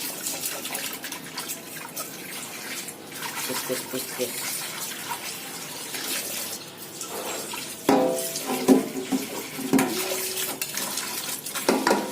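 Running tap water splashing into a sink while dishes are scrubbed and washed, a steady hiss with clinks and sloshing of plates, and a voice speaking intermittently over it.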